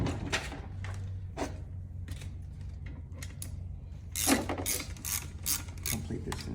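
A ratchet tightens bolts on an FA20DIT engine during a build, giving a run of quick metallic clicks in short bursts, fairly close, under someone talking.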